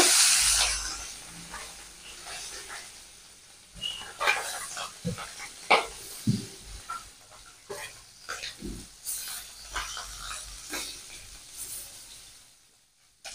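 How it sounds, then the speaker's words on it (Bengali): Tangra fish drop into hot oil and fry with a broad hiss that is loudest at first, then settles into quieter crackling broken by sharp, intermittent pops and clatters. "তেল গরম হয়ে গেছে, দিয়ে দেবো ট্যাংরা মাছগুলো"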